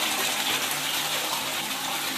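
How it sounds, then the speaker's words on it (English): An Australian toilet (dunny) flushing, a steady broadband rush of gushing water lasting the whole stretch at close range, with no talk over it. "let's give this dunny a flush and see how she's travelling"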